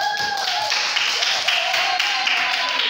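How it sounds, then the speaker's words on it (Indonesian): A school class applauds a student, with dense, even clapping from many hands that holds at a steady level throughout, close to the listener. "Yang tepuk tangannya untuk Hasdillah."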